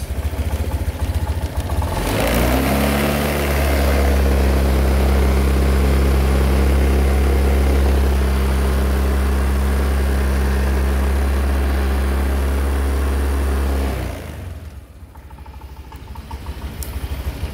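A motorcycle engine, checked while its frequently drained battery is charging, revs up from idle into a loud, sustained drone close by, then drops back to a lower idle near the end.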